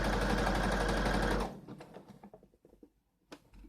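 Sewing machine stitching a T-shirt, a loud steady mechanical whir for about a second and a half, then stopping, followed by faint clicks and handling noises.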